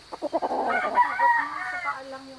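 A white-legged bull stag gamecock, around 16 to 18 months old, lets out one full crow close up, opening with a few sharp stuttering notes and then a long drawn harmonic call that tails off.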